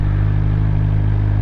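A Suzuki GSX-R 600 motorcycle engine idles steadily and close by, a low, even throb with a slight clatter and no voices.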